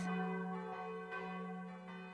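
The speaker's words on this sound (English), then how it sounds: "In the early morning, the church bells rang." Church bells ringing in the early morning, a sustained, resonant bell tone with rich overtones and a few soft repeated strikes, moderately distant and alone.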